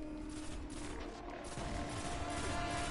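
Rapid automatic weapon fire from the video game Destiny during the Devil's Lair strike, a dense continuous barrage of shots layered with game effects and background din, steady and loud throughout.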